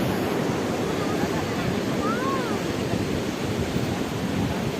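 Sea surf rolling onto Puri beach in the evening, a steady continuous wash of breaking waves mixed with wind buffeting the microphone, fairly loud and constant throughout with no voices.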